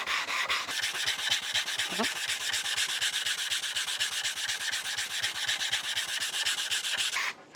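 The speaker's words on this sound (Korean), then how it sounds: "사포를 할 때는 이제 손으로 누르는 힘이 필요하겠죠." Steady rhythmic scratching of sandpaper rubbed back and forth by hand with pressing force, many quick even strokes, close and continuous until it stops abruptly.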